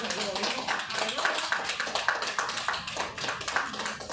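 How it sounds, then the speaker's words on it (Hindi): Hands clap in a steady rhythmic beat in Indore, sharp regular claps running throughout beneath voices and a noisy background. "अरे हाँ ये ताली बजा"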